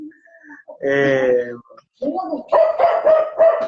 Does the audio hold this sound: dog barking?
yes